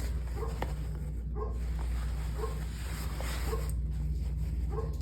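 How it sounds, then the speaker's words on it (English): A female dog barks in a home, giving about five evenly spaced, fairly distant barks over a steady low hum. "That's her barking."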